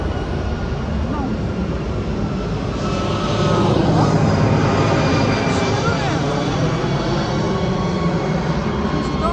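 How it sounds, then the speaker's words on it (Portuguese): Airplane flying overhead near Belo Horizonte, a loud broad rumbling roar that holds steady and swells slightly midway, with people talking beneath it. "Fica passando esses aviões de Belo Horizonte"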